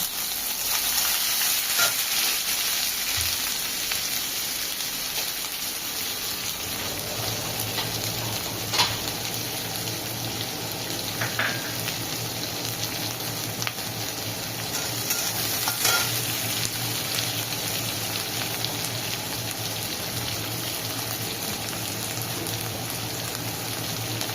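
Onions and cumin sizzle steadily in hot oil in a pan, a dense crackling hiss that swells slightly, with a low hum and occasional stirring scrapes, close by.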